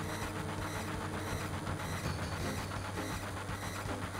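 A train in the Final Fantasy 7 video game rumbles steadily at its front car, giving a constant low mechanical drone with faint rhythmic clatter and no talking.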